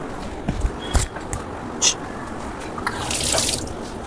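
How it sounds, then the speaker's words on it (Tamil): Water is poured into a pan while cooking momos, giving scattered drips and light splashes, with a longer trickling pour near the end in a quiet kitchen. "தண்ணி போடுவோம்."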